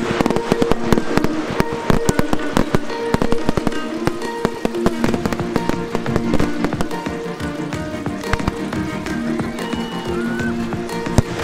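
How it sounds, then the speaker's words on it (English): A fireworks display at Birkenhead Park in Wirral, 2018, bursts in rapid, loud crackling volleys of bangs and pops, densely packed and continuous for the whole stretch with faint crowd noise beneath. "Are you gonna watch the fireworks?"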